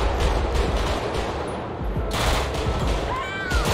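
Rapid gunfire in the GTA 5 video game crackles in a dense, continuous stream over the game's background noise, loud and close throughout the short stretch.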